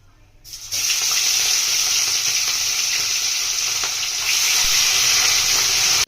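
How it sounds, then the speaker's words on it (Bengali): Pieces of fish fry in hot oil in a kadai wok, giving a loud, close, continuous sizzle that swells slightly near the end and then cuts off. "আমাদের তেল গরম হয়ে গেছে মাছগুলো হালকা করে ভেজে নেবো"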